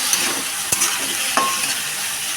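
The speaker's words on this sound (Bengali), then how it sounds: "শাকটা দিয়ে দিয়েছি বন্ধুরা, এবার ভাজতে হবে" Leafy greens frying in a pan, a loud, steady close sizzle with a couple of brief utensil clicks, no voices.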